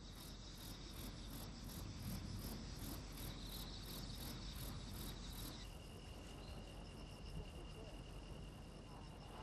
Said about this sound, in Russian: сверчок стрекочет, потирая одно надкрылье о другое